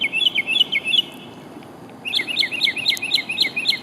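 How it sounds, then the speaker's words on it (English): A mockingbird sings outdoors in bright, varied chirping phrases, in two bursts separated by a short pause, clear and fairly close. "I can't believe you've never heard a mockingbird before."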